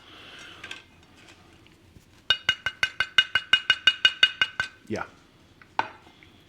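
Crisp crunching of a low-carb chia seed tortilla chip, a quick regular run of about a dozen sharp cracks up close, with a few scattered crunches before and after and a brief spoken word.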